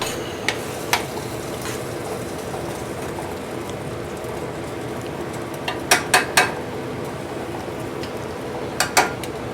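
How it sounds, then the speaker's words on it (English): Peppers get stirred in a cooking pan over a steady low sizzle, with a spoon or spatula scraping and clicking against the pan in sharp scattered knocks, several clustered close together. "I just put a few peppers in there. Give this a stir."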